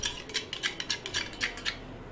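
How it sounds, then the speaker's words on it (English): Four eggs being beaten in a big bowl with pepper powder and salt: a quick run of light rhythmic whisking clicks and taps against the bowl, close and fairly soft, with no voices. "Beat 4 eggs in a big bowl with 1/2 teaspoon of pepper powder and a little salt."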